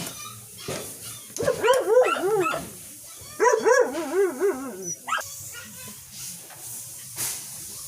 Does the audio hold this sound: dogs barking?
yes